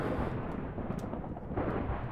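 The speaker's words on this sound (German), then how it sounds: "Dieses Gewitter, du bist irgendwie gefühlt 20 Blöcke unter der Erde und hörst immer noch." Thunder from a Minecraft thunderstorm rolls in a low, heavy, continuous rumble with a swelling crack near the end, heard while underground.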